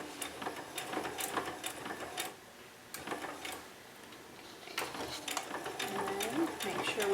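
A sewing machine back stitches a fabric mask over a cord in short, faint bursts of ticking, clicking mechanism, stopping and starting close by with quiet gaps between.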